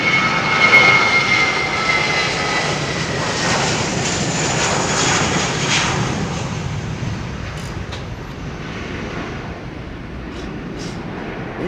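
An Embraer airliner on runway 27R at London Heathrow produces a steady, loud jet engine roar that holds for the whole stretch, a broad rushing sound with a slight fade toward the end and no talking.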